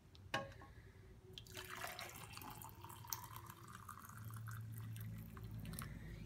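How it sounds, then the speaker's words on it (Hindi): Boiled cinnamon water is poured from a cooking pot into a glass, giving a steady liquid trickle and splash that builds over several seconds, close and fairly quiet, with no talking. "मैं इसे गिलास में निकाल लूंगी।"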